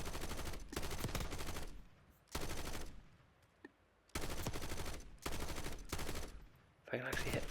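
PU-21 assault rifle fire in Call of Duty, loud sustained automatic bursts in several long strings separated by short quiet gaps, with no talk over it.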